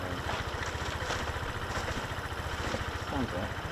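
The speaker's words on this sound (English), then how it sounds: "I think it's a motorbike." Motorbike engine idling nearby at an airfield viewing spot, a steady low rumbling throb with regular pulses running throughout, with faint voices in the background.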